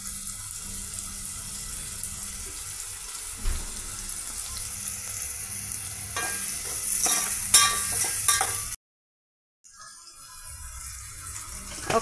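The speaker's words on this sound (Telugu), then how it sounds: "పెద్దల్లిపాయ, పచ్చిమిర్చి అన్నీ ఆయిల్తో ఈ విధంగా ఫ్రై అవుతున్నాయండి" Tomato, onion, green chilli and ginger-garlic paste fry in oil with a quiet sizzle and a few stirring scrapes, near and without voices, then sound cuts out briefly before the frying resumes.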